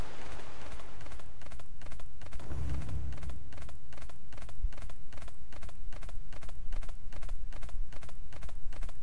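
Horse hooves clip-clopping in the video game Death's Gambit, a steady even rhythm of hoof beats repeating throughout, close and clear over a soft ambient bed.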